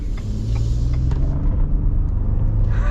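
A Ford F-150 Black Widow with the 3.5L EcoBoost accelerates in normal mode, heard from inside the cabin as a steady low rumble of engine and road noise that builds slightly, with no one talking.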